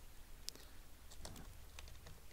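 Faint, sparse clicks of computer keyboard typing, with a few quick keystrokes in a quiet room.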